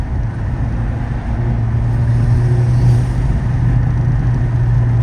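A Hyundai Elantra N with a stage 2 tune pulls hard under sustained acceleration, a steady loud engine drone with a low rumble heard from inside the car, no talk.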